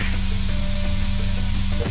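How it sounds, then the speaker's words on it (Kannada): A steady, close electrical hum with a faint whirring hiss runs without a break, like a fan running nearby. "ನಾನು ರೆಕಾರ್ಡಿಂಗ್ ಆನ್ ಮಾಡಿದರೆ ಫ್ಯಾನ್ ಸೌಂಡ್"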